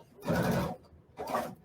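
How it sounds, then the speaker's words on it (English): A sewing machine stitching a quilt off at a 45-degree angle, two short whirring bursts of needle motion separated by a brief pause, close and moderately quiet. "I will pivot this quilt and sew off at a 45-degree angle."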